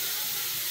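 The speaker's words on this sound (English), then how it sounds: "Spraying the big piece." A spray gun spraying a cabinet gives a steady, broad hiss that fills the whole moment, even and continuous with no breaks.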